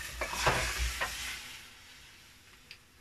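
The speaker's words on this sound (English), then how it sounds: "I love the sound of sizzling." Food sizzles and crackles in a frying pan with goat's cheese salad ingredients, a soft steady hiss broken by a few stirring knocks and scrapes near the start.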